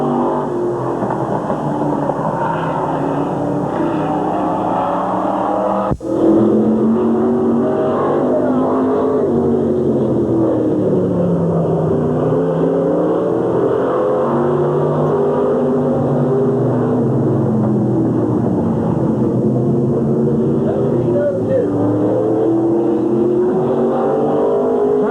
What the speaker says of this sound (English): Here comes Kenny on his qualifying lap right now